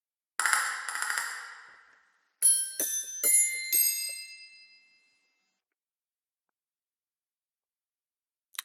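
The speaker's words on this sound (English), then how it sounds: "some bells are the other ones" Orchestral bells from a sample library ring out alone: two bright sustained strikes, a pause, then a quick run of four clear tones that fade away, followed by silence and one faint final tap.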